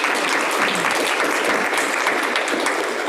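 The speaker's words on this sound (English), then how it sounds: "give them a round of applause" Applause from a gallery audience at an artist talk, honoring the gallery assistants: a dense, even round of many hands clapping, loud and close, sustained throughout with no letup.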